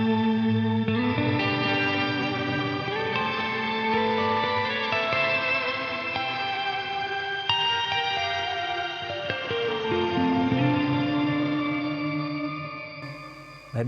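An EarthQuaker Devices Astral Destiny pedal holds a dense, continuous shimmer reverb tail with regenerated, pitch-shifted layers, ringing bright and steady for over ten seconds with slowly shifting harmonics before cutting off.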